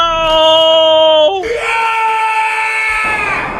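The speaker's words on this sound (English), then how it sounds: "You can hear the scream from here, yep." A player character screams in the Blood Bowl video game, a loud, high, drawn-out shriek that breaks and slides into a sustained wail, heard alone without talk.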